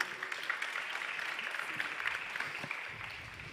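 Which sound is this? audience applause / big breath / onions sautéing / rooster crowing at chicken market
audience applause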